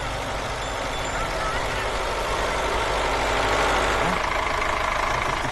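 A tractor engine idles loudly and steadily close by, a constant low rumble filling the whole stretch.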